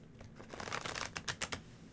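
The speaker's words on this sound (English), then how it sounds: "I'm just shuffling." A deck of tarot cards being shuffled during a live stream, soft riffling flutters followed by a few sharper card snaps, quiet and close, with no talking.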